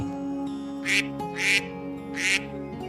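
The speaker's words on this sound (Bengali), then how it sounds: "শুধু প্যাক প্যাক করিস কেন?" A cartoon duckling quacks three times in quick, bright bursts over a steady bed of soft background music, each quack short and clear.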